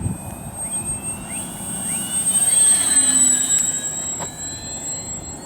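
An FMS Ranger 1220mm RC airplane makes a touch and go. Its electric motor whines in rising and falling pitch sweeps as it passes at a moderate distance, swelling in the middle and then easing off, with no voices.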